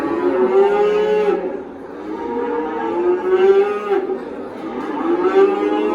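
A cow at a livestock market in Parkent moos loudly and close by, three long, drawn-out lowing calls one after another, with no talking.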